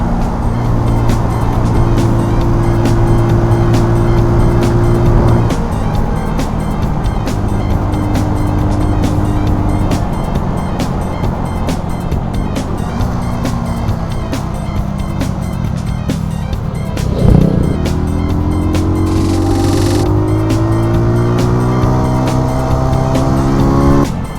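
A Junak RS PRO 125 motorcycle accelerating on a quiet road, its engine note climbing through several gears in rising sweeps with brief dips at each shift, loud and close over steady wind roar.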